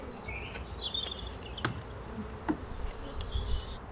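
Honeybees buzzing in an opened beehive, a steady close hum with occasional louder bee passes near the listener.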